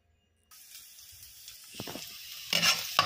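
Garlic sizzles in a hot pan for garlic shrimp, a soft steady frying hiss with a few louder spatters and stirring scrapes near the end.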